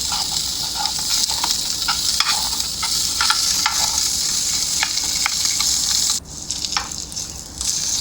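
Eggs frying in a pan with salt and chili powder: a steady, loud sizzle with scattered stirring scrapes. The sizzle softens briefly toward the end, and no one speaks.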